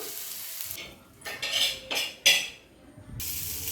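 Fish fried in a pan with little oil crackles and sizzles in several loud bursts separated by quieter stretches, close and unaccompanied by talk.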